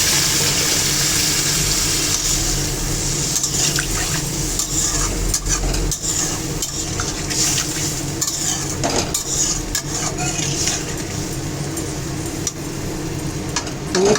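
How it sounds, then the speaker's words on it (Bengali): Water poured into a potato and pointed gourd curry for gravy, sending up a loud, steady hiss and bubbling from the pan, with spoon clinks and stirring throughout, close up and without speech. "এটা গ্রেভির জন্য জল দিয়ে দিলাম"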